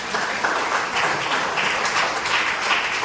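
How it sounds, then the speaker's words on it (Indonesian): A church congregation applauds together during a sermon, a dense steady wash of hand claps that holds evenly for about three seconds. "Mari berikan tepuk tangan bagi Tuhan"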